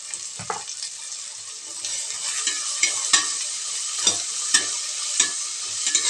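Green chilies, coriander and mint leaves fry in a pan with a bright, continuous sizzle, and a spatula scrapes and taps the pan several times close up. No voices are heard.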